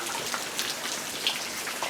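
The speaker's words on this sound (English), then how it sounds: "I'm sitting on the front porch dodging the rain" Rain falling beside a front porch, a steady hiss of drops with scattered closer patters on nearby surfaces, fairly quiet and continuous with no voices.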